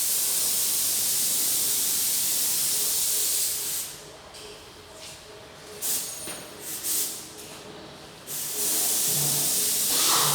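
Spray gun applying a thin first coat of paint to a car body, working the hard-to-reach areas first: a loud, steady high hiss that breaks into shorter intermittent bursts midway before resuming as a continuous spray.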